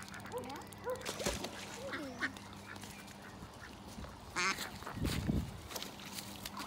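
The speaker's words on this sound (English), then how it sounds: "It's the mallard, isn't it?" Mallard duck quacking outdoors, a few short nasal quacks scattered among faint ambient noise and distant voices, fairly quiet and far from the microphone.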